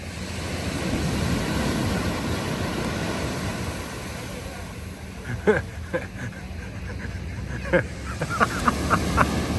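Birds honking like geese or ducks at a seaside spot, a few short calls in the second half over steady surf-like background noise.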